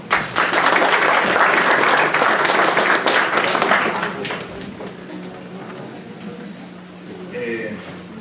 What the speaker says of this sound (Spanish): Un aplauso por él, por favor.